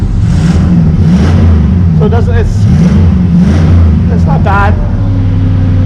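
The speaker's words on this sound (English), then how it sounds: "I probably shouldn't be revving it up right off the bat because it's not even warm." A 4.8 V8 engine in a regular-cab, step-side four-wheel-drive pickup runs cold and steady at close range, rising briefly in a couple of short revs while someone talks over it.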